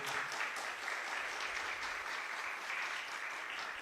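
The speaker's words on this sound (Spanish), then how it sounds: "démosle un aplauso al doctor Carlos Osorio" An audience applauds steadily for Dr. Carlos Osorio at the close of a short philosophy lecture, a dense, even wash of clapping that holds for several seconds.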